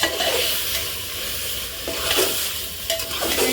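Small masala-coated mutton pieces hit a hot oiled pan with a loud, steady sizzle, broken by a few scraping stirring strokes.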